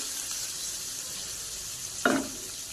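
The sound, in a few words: whole cumin and chopped onion frying in a pan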